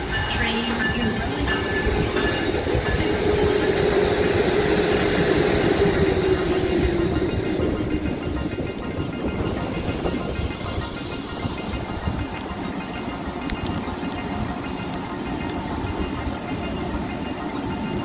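A passenger train at a station rumbles loudly and steadily with a clattering rail sound and a drawn-out wheel squeal, then settles into a lower, continuous roll.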